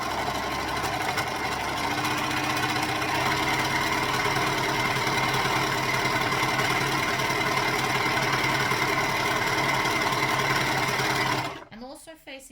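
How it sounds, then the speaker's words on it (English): An overlocker serges around the bottom edge of fabric for a Kwik Sew K4172 garment, a steady, close mechanical whir that runs unbroken for about eleven seconds before it abruptly stops. "I'm actually going to overlock all the way around the bottom"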